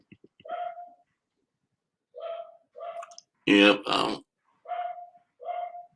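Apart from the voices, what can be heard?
dog barking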